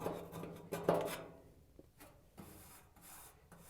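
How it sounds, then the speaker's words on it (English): A scraper removes old glue and damper pad material from the base of a Maytag washer's balance system. It makes faint, close, irregular rubbing and rasping strokes, heaviest at the start and tapering off. "Use a scraper tool to remove any remaining glue or damper pad material."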